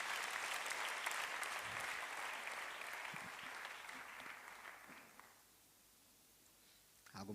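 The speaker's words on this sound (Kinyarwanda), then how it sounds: "Dukomere Imana amashyi mu izina rya Yesu." A church congregation applauding, dense clapping that fades out over several seconds into near quiet, with faint rustling and murmuring afterward.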